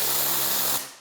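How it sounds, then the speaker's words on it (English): A steady hissing spray of fine mist from a Rag Company Ultra Air sprayer with a faint mechanical whir underneath, cutting off abruptly near the end. "It does take a second to start spraying liquid."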